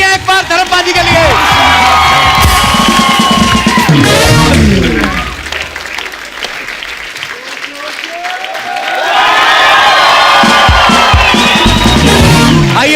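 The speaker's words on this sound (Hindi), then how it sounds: "जोरदार तालियां एक बार धर्मपाजी के लिए" A studio audience at a TV comedy show greets Dharmendra with loud applause, cheers and whoops. The noise dips briefly in the middle, then surges back to full volume.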